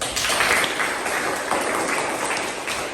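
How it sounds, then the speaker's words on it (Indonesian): Students in a classroom clap together in steady, dense applause that holds at an even level throughout, with no voices over it. "Kita berikan aplaus"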